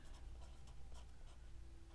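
A pen inks words onto paper for a mini ink-and-wash watercolor piece, a close, faint scratching in short strokes with a light rhythmic scribble.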